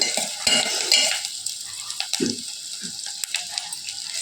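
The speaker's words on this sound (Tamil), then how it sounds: "ஒரு பெரிய சைஸ் வெங்காயத்தை வெட்டி வச்சுருக்கேன் அதை சேர்த்தலாம் நாங்கள் எண்ணெயில் வெங்காயம் வதங்கி வதங்கிட்டு வந்து" Chopped large onion sautéing in oil in a home kitchen, with scattered clinks and scrapes of a spoon stirring against the pan over a soft background hiss, close and fairly quiet, no talking.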